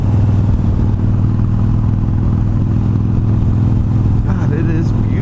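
Steady low engine drone of a Harley-Davidson Sportster Iron motorcycle under way on a back road, with constant rushing helmet wind noise throughout and no speech.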